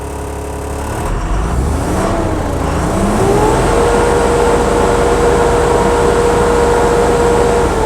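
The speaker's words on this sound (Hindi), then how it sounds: "और थोड़ा रेस करके देख लेते हैं।" Car engine with the parking brake engaged, revved hard while the vehicle stands still: the pitch climbs and dips through a few throttle blips, then settles into a loud, sustained high rev with no talking.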